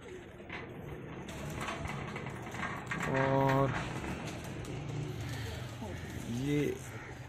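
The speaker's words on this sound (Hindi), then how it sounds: "नीचे जोड़ों वाले कबूतर" Pigeons coo in short repeated bursts over a steady outdoor background, with distant traffic and people talking nearby.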